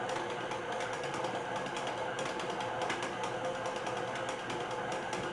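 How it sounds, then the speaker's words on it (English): A stand mixer kneads chocolate caramel bread dough with a steady, close mechanical whir and hum that runs unbroken at even loudness, with no voices over it. "I kind of let my mixer do a little bit of the kneading for me"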